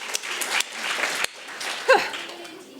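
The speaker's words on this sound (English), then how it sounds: "Round of applause" Scattered audience clapping breaks out at a blockchain workshop, uneven and moderate with a few sharp claps and a short cheer-like voice near the end.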